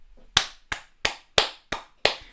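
Six sharp, evenly spaced hand claps ring out one by one, close and crisp in an otherwise quiet room, a lone slow round of applause with no voices.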